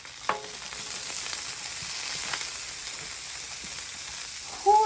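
Peppers and onions frying on a griddle in avocado oil give a soft, steady sizzle with a few scraping stirs, quiet and close with no talking.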